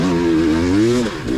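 A 300 cc dirt bike engine revs hard and close during a muddy high school motocross race, its pitch rising and wavering steadily for over a second before dropping off, then climbing again briefly at the end.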